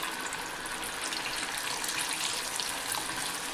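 Flattened green-pea vadas fry in hot oil, giving a quiet, continuous crackling sizzle with dense bubbling and no voices.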